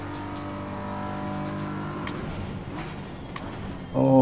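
Race car engine in the sim racing game Assetto Corsa Competizione, holding a steady loud drone with layered harmonics, shifting pitch mid-clip and rising sharply into a harder rev near the end.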